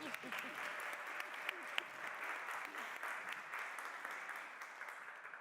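An audience at a psychology talk applauds steadily, with continuous clapping at moderate volume and a few sharper claps standing out near the start.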